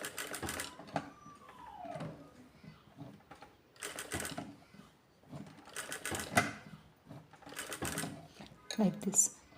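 A sewing machine stitches around a curve in bursts, its needle chattering in several short runs separated by pauses as the fabric is turned, while a voice talks between and over the stitching.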